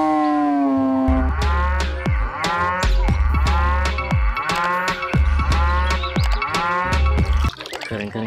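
A cow moos, sounding like a toy animal sound among toys being cleaned, a loud drawn-out low moo followed by a busy rhythmic run of musical tones and bouncy effects, with no talk over it.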